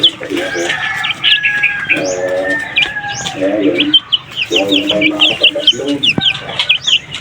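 Pet chickens cluck and call in repeated bursts, fairly close and loud, with high chirps from other birds in between and a little background talk.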